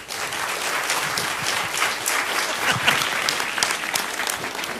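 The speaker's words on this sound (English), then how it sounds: "please help me give a warm round of applause to Jasmine Jenkins" Audience applause fills a candidate forum on public schools in Houston, with steady, dense clapping at close range that swells slightly and carries on for the whole stretch without any voices.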